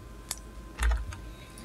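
Typing on a computer keyboard during a spreadsheet exercise, a few scattered clicky keystrokes with a louder double tap near the middle, close and alone in a quiet room.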